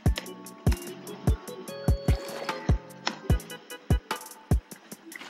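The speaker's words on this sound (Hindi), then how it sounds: "चलो अब जल्दी जल्दी पानी भरना है बस" Water being filled in Minecraft, with a series of short, sharp watery plops and squishy splashes repeating at an irregular quick rhythm over a quiet game background.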